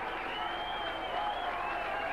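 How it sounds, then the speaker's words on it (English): A crowd at the 1983 world darts final applauds Keith Deller, steady sustained clapping heard in the arena under a faint broadcast hum. "And applause, and it's deserved for Keith Dellar."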